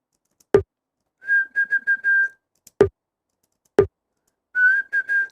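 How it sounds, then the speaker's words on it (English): Short synthesized blips pitched against an F minor pad, heard as quick bursts of a bright, whistle-like tone in stuttering clusters, set between sharp percussive clicks, fairly loud with no voices. "it's very well possible that this blip sound isn't really pitched to our F minor scale"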